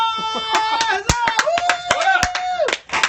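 A few scattered hand claps ring out sharply at a comic book show as a guest is welcomed, sparse and close, mixed with a bright sustained tonal background of music or voices.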